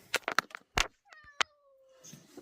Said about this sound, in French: Vous allez entendre son miaulement jusqu'au veto.